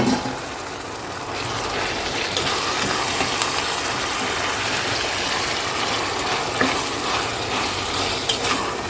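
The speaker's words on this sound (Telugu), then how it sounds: "ఈ ఉల్లిపాయలు లైట్ బ్రౌన్ కలర్ వచ్చే వరకు ఫ్రై చేసుకోవాలి" Onions and mutton frying in a pan for a mutton curry, a loud continuous sizzle with scraping stirring sounds throughout and no talking.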